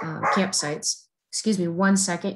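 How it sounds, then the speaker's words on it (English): A standard poodle barks somewhere in the background of a home during an online meeting, faint and partly buried under a close voice speaking throughout. "you can hear my dog barking in the background."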